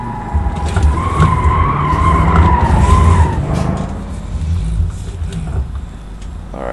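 Tyres screech loudly in a sustained squeal as a car skids through a U-turn in the BeamNG driving simulator, then the squeal cuts off and engine rumble and road noise continue.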